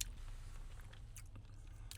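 Crunchy sponge candy is chewed close to the mic in a few soft, brittle crunching bites over a low, steady background hum.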